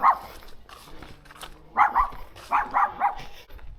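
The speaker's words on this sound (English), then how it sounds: "It's all I need, getting attacked by a couple of dogs." A couple of dogs bark along a street in Japan, a single bark followed by quick clusters of two and three sharp barks, fairly close and clear.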